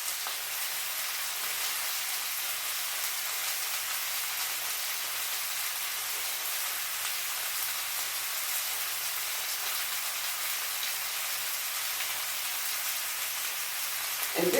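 Pork chops and onions fry steadily in a pan on medium-high heat, a constant, even hiss of sizzling fat that holds at one level throughout with no talk over it.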